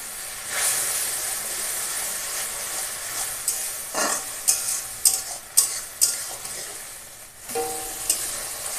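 Spice masala with salt and turmeric sautés in oil for a hilsa fish curry, a steady close sizzle broken by several sharp scraping stirs of the spoon against the pan.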